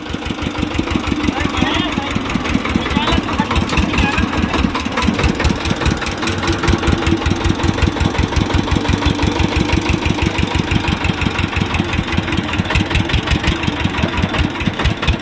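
A vehicle engine with power steering running steadily in reverse gear, a close, loud, rhythmic chugging idle throughout with occasional voices over it.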